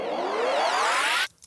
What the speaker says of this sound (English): So you could add like a riser like this sound right here.